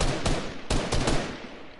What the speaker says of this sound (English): Why are you shooting me down, you bot, you bot?